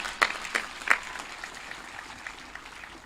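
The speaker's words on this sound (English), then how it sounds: "Give yourself a round of applause." Graduates at the Kaiserslautern High School 2018 graduation clap in a few scattered, distinct claps at the start that fade into faint, sparse applause in a large hall.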